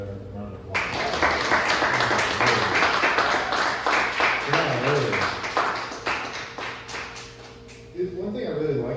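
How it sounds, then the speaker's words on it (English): Audience applause at a poetry reading, a dense wash of clapping that starts sharply and carries on steadily through the clip, with a voice talking faintly underneath. "let's give Thompson Helen another round of applause."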